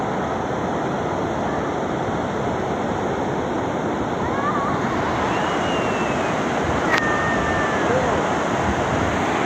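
Sea waves wash steadily over a sandy beach at a seaview shore where horses are being bathed, a continuous loud rushing surge with faint voices and whistles in the background.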